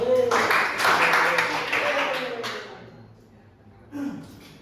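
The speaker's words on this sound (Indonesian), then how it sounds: "tepuk tangan untuk temannya dong" Classroom students clap for a classmate during a microteaching lesson on design and colour principles, a dense round of applause that tapers off after a couple of seconds, with a voice speaking near the end.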